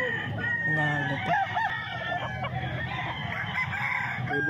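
A rooster at the Grotto market in Bulacan crows loudly and nearby, with its drawn-out calls rising and falling over a busy background.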